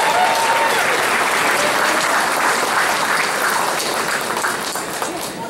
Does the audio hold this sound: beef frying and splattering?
no